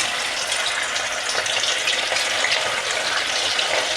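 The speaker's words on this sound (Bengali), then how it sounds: "মাংসগুলো একটুখানি ভেজে নেব।" Chicken pieces coated with salt and turmeric fry in white oil in a wok, giving a continuous, even, fairly loud sizzling hiss with no breaks or talking.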